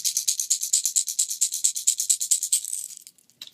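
High-pitched rattling knocks in a fast, even rhythm from a shaken Backstabber Lipless Stabber lure, close up, slowing and fading out near the end.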